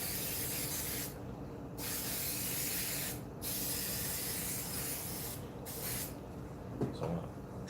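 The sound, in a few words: spraying from a spray can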